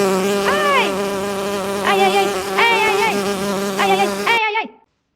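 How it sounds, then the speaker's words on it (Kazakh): Cartoon bees buzzing as they chase: several rising and falling whiny drones overlap in waves, loud and close, before cutting off abruptly near the end. "Аралар мен неге қуды екен?"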